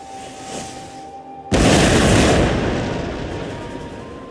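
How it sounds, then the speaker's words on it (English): Artillery cannon fire in the Total War: Empire strategy game, played as England: one loud, sudden booming blast breaks a quiet ambient stretch, then a long roaring rumble slowly fades across the battlefield. "Alright, artillery fire."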